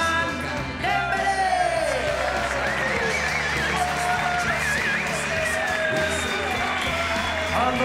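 A large stadium crowd at an FC Barcelona team presentation keeps up steady cheering, whistling and applause under an announcer's amplified voice, a dense, continuous roar.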